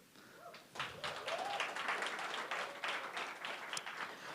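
An audience claps and applauds steadily for several seconds at a graduation ceremony, a dense crowd sound starting abruptly after a quiet moment.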